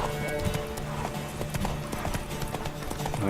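Horse galloping in The Witcher 3, a steady rapid clip-clop of hooves on a track with a brief whinny, set among busy game music and ambience.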